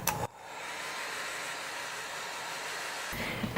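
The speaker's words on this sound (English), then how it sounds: "Blow dryer is pretty useful in this case." A blow dryer runs steadily, drying masking fluid on a watercolor painting, a close continuous whooshing hiss that starts and stops abruptly at either end.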